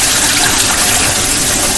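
Kitchen tap water runs in a strong, steady stream while dishes are being washed, a loud, close, continuous splashing gush with no talking over it.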